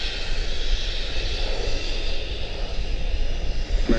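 Boeing 777 jet airliner departing Charlotte-Douglas International, a steady broadband engine roar held at an even level throughout, distant and continuous with no talk.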